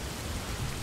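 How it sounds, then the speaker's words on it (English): Pouring rain in the Morroblivion game mod, which brings Oblivion into Morrowind, heard as a dense, even hiss of downpour with low rumbling beneath and no speech. "Oh, it's pouring rain."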